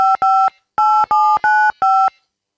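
Telephone keypad DTMF tones as a phone number is entered: six crisp, loud dual-tone beeps in quick, slightly uneven succession, clean and isolated.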